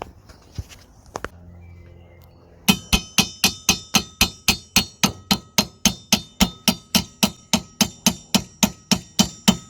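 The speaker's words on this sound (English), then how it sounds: "we're gonna bang it with a small hammer, so that we can free the arm from the stud" After a short quiet stretch, a small hammer strikes a Seat Altea front suspension arm in a steady, fast rhythm, freeing it from the stud, over twenty ringing metal clanks close up.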